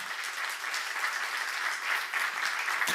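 A church congregation at a Korean seminar gives sustained applause, a steady dense wash of many hands clapping at once with no break, fairly loud and filling the whole stretch.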